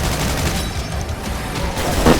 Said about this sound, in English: The rifle has quintessentially been replaced by the machine gun.